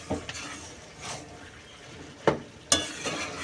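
Gourd curry with beans, potatoes and lentil dumplings being stirred in a cooking pan: soft frying sizzle under scattered scrapes, with two sharp clanks of the spoon against the pan near the end.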